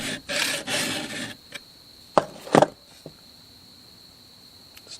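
A hand file rasps across a chainsaw chain tooth in two long, scratchy strokes, followed by a few sharp metallic clicks and taps from the chain and tools, all close and clear.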